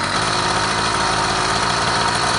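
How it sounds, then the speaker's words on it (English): Small push bike engine running steadily at a fast, buzzy idle, loud and close, with constant vibration and no talking, as it burns off the fuel in the carburetor. "then you just let the engine to continue running"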